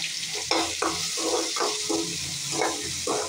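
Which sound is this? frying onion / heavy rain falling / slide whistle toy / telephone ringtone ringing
frying onion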